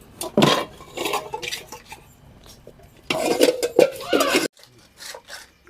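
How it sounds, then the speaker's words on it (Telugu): A metal spoon clanks and scrapes in a kadai while papads fry, in loud, uneven bursts of clatter separated by short pauses. "కొన్ని పాపడాలు వేయించుదామని ఇక దీని ఈ కడాయిలోనే వేయించుదామని"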